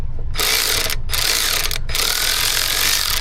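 A ratchet wrench loosening bolts under the dashboard of a Ford Escape, a loud, close, continuous clicking rattle broken by two brief pauses.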